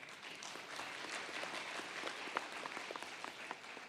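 A church conference audience breaks into steady applause, a dense, even wash of many hands clapping at a moderate distance, with a few sharper claps standing out.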